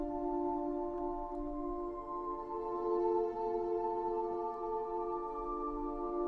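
Reversed ambient synth sample built in FL Studio for a dark beat: a steady, wide sustained chord pad swelling gently with soft low rumble, playing alone throughout.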